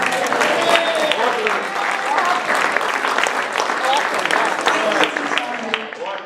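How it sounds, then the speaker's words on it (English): An audience at a Habonim performance gives another round of applause, a sustained, full crowd clapping with voices and cheers mixed in, tapering off near the end. "Let's give them another round of applause"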